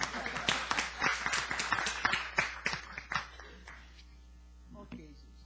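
A small audience at a book launch session gives a round of applause, a series of irregular claps from a few people that thins out and fades, with a steady mains hum underneath and brief voices at the end.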